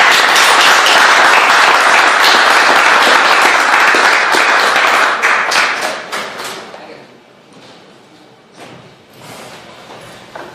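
A lecture audience breaks into loud, dense applause to welcome Professor Carlos Pérez Soto. The clapping holds steady for several seconds, then thins into scattered claps and fades out.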